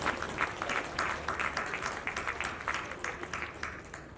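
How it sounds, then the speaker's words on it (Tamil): Close, lively crowd applause with distinct, rhythmic individual claps rises and falls steadily as an actor is welcomed onstage at a Tamil film audio launch event. "நல்ல கைத்தட்டோட let's welcome actor Bharat on stage"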